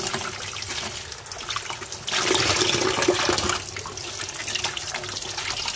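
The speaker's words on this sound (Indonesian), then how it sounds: "Untuk kobisnya juga sama, kita cuci." Cabbage being rinsed under a running tap while preparing vegetables for Indonesian rujak sayur, a steady loud splashing flow of water that swells for a moment midway, with no talking.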